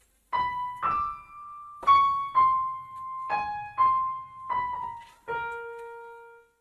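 Keyboard playing the opening of a theme from Harry Potter, a clear electric-piano-like tone striking about eight single notes in a lilting melodic rhythm, each ringing briefly, with no talking.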